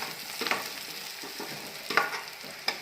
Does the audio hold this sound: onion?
yes